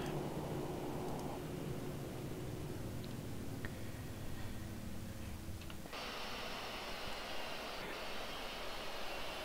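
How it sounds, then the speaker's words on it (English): Airbus A319 engines spooling down in a flight simulator, a low whining drone that steps down partway through, leaving a quieter, thinner hiss; faint and steady with no voices. "We will cut the engines"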